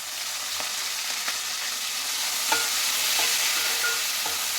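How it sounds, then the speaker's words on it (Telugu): Fenugreek leaves go into a hot pan for a Telugu okra, prawn and egg tamarind curry. A steady, loud frying hiss fills the pan, broken by faint clicks from stirring. "కొంచెం ఇప్పుడు నేను మెంతాకేస్తాను"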